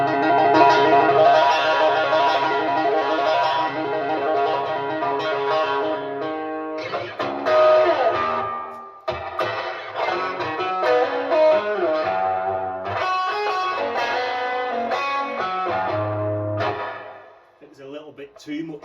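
An electric guitar plays through a Boss Blues Driver and an overdrive pedal into a Line 6 Spider IV amp, giving loud, gritty sustained chords and notes in a continuous passage that briefly cuts out before fading at the end.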